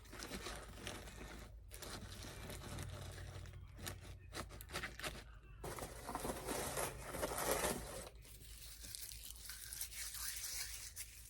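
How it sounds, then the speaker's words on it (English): Crinkly shredded paper filler is stuffed around tissue paper while packing a gift basket, giving a steady close-up rustling and tearing crackle with brief pauses, no talking. "I'm just going to add my favorite shred, trying to hide some of this tissue paper."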